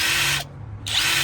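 A WORKPROX cordless impact gun spins at its third, fastest speed setting in two loud, steady bursts with a short pause between, no talking.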